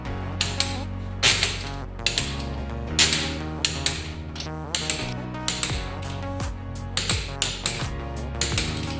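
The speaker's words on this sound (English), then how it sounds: "now we just got to torque down these lug nuts" A ratchet clicks in quick bursts while torquing down lug nuts on a 2006 Subaru WRX wheel, sharp metallic pawl ticks repeating in uneven runs, close and clear with no talking.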